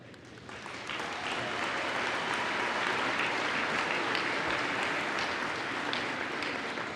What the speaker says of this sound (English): One more round of applause for our graduates.